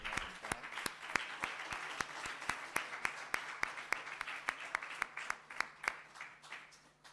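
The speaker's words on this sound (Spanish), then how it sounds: "Le damos un aplauso a Tere." Applause from a small gathering at a grief-support workshop, with sharp, distinct claps standing out in an uneven rhythm over a softer bed of clapping, fairly quiet overall and continuing for about seven seconds.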